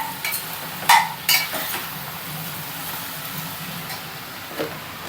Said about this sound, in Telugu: ఈ పోపు అంతా ఈ ముక్కలకి మంచిగా పట్టే విధంగా కలిపేసుకోవాలి.